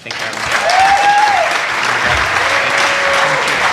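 Dense, steady applause from a dinner celebration audience fills the room, loud and sustained throughout, with faint voices and a brief whistle-like tone riding over the clapping.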